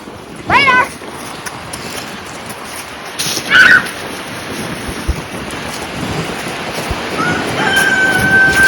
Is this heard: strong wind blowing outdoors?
yes